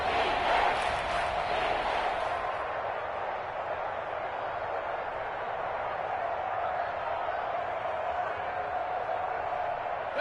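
Dense football stadium crowd roar at Arrowhead during a Chiefs game, a steady wash of voices and cheering filling the whole stretch, louder at the start and holding level throughout.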